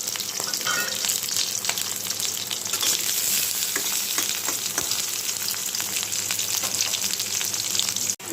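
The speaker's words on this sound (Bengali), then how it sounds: "এদিকে আমার পেঁয়াজটা ভাজা হয়ে গেছে" Onion with cardamom and cinnamon sizzling and frying steadily in a small amount of hot oil for a mutton curry, a continuous loud crackle with occasional stirring scrapes and no talk.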